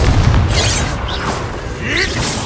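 A booming fiery burst from the Incendio fire spell being cast in the video game Hogwarts Legacy, a dense rumbling blast that holds loud for a couple of seconds amid other game sounds.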